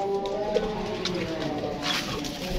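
Pigeons coo in low, rolling murmurs close by, with faint background noise and a distant voice.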